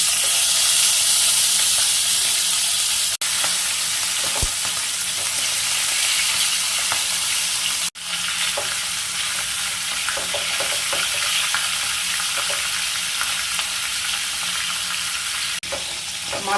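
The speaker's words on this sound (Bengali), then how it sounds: "তেলটা গরম হয়ে গেছে। এবার মাছের মাথাটা ভেজে নেব।" Fish head frying in about four tablespoons of hot oil in a pan for a Bengali muri ghonto dish; a loud, continuous sizzling hiss fills the whole stretch, with occasional crackles and a few brief clatters, no talking.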